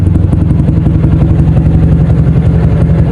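A 2007 OJMX motorcycle engine idles after a tune-up, giving a loud, steady low rumble with a fast even pulse that holds throughout, with no talk over it.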